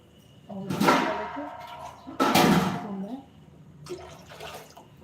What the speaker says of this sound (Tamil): கொஞ்சமாக தண்ணி சேர்த்துக்கிறேங்க